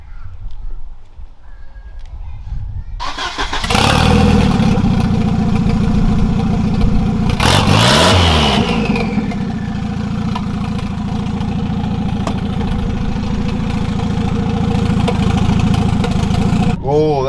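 A turbocharged car running on ethanol, with a ported internal wastegate, starts up and holds a loud, steady engine drone close by, with one sharp rise in revs midway, before the sound cuts off at the end.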